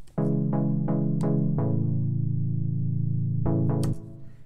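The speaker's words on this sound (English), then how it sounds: "it's another triplet rhythm, but instead of going all the way through each chord, I'm just gonna sustain each second chord" EDM synth chords play in a triplet rhythm, a few short stabs followed by a long sustained chord, then more quick stabs and another held chord, loud and clean with no voices.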